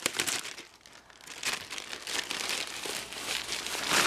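Plastic wrapping crinkling around a freshly unboxed Mary's Diamonds diamond painting kit, close and steady, with bursts of crackle rising and falling over four seconds and no talking.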